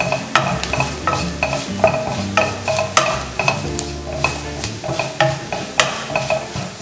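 Chicken masala mixture sautéed in a pan, with repeated sharp spatula scrapes and stirring clatter over a steady low sizzle, close and fairly loud throughout.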